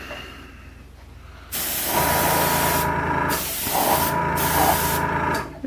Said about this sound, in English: I'm kind of spraying this about, I don't know, 6-8 inches away